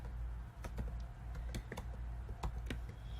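Quick keystrokes clack on a computer keyboard in an irregular run of light taps, fairly close and quiet, with no voice over them.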